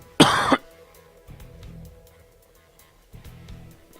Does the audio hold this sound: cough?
yes